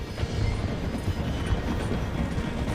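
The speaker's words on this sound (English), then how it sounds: "The train is slowing down to go through the station." A train in Red Dead Redemption slowing as it passes through a station, a steady dense low rumble with rhythmic clattering of wheels and carriages, loud and continuous.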